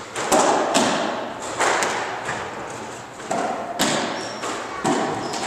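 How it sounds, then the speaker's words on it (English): A ball is struck several times, each hit a sharp, close thud, spaced about a second apart and followed by a brief decaying rumble, with faint talk in the background. "Go ahead, hit the ball."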